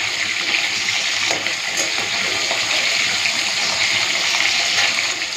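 Water pours and gushes continuously into a pan while fish curry with mustard paste cooks, a close, steady splashing rush.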